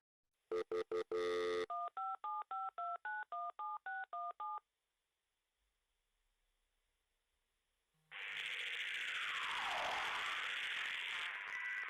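Telephone number being dialed as a rapid series of touch-tone beeps, several quick tones followed by a steady run of evenly spaced dual-tone presses, then a pause and a loud sweeping electronic hiss.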